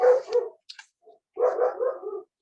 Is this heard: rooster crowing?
no